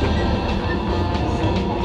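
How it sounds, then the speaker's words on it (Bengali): A high-speed train between Barcelona and Madrid runs through green hilly country with many tunnels, slowing slightly; a continuous loud rolling rumble with faint rail clatter, heard from inside the carriage. "ট্রেনের স্পিডটা সম্ভব কমে এসছে।"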